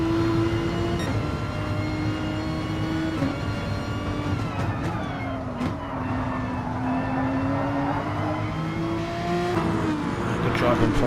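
Race car engines drone steadily in a racing video game run at Alsace Village, with a green Mercedes among the cars; one sustained engine tone shifts pitch through gear changes, with another engine's whine rising near the end.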